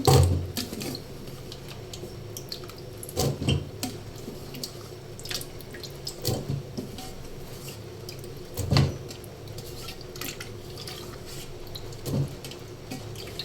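Pumpkin pieces are washed in water, with soft sloshing and trickling punctuated by occasional louder splashes and clunks of pieces being handled, close and fairly quiet, with no talk.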